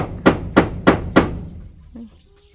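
Hammer driving nails while preparing a space for making sausages, four loud evenly spaced strikes close by, followed by fading ring and faint background sounds.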